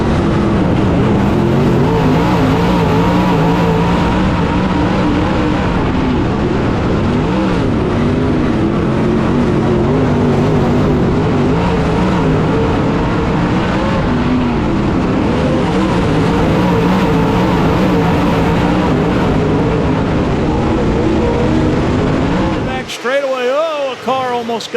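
Race cars roar around an oval track at Senoia, Georgia, their engines loud and continuous with rising and falling pitch as they pass, before the sound abruptly cuts off near the end.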